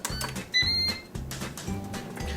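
Air fryer sounding a short electronic beep as start is pressed, set against a steady rhythmic whirring hum from the appliance.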